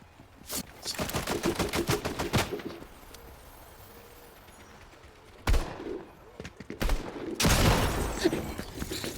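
Bursts of rapid gunfire in the video game Fortnite, several volleys of sharp cracks separated by quieter gaps, loud and close.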